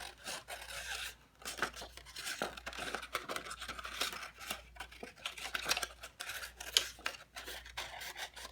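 Small scissors cut carefully through paper for a mirrored design, with a steady run of short, quiet snips and rustling paper close by over several seconds, no voices.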